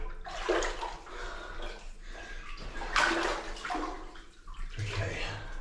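Water sloshes and swirls steadily as someone wades through cold, deep water over thick mud in a New Zealand gold mine, with a few heavier surges, close by and continuous.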